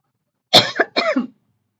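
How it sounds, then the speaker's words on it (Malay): A single close, harsh cough burst followed by a second rougher one, loud and alone against silence. "Batuk pula."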